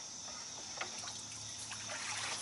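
Water draining from a large fish tank, a faint continuous trickle and gurgle with small bubbling spurts throughout.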